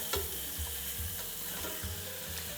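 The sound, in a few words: picanha steak sizzling in a pan as it is flipped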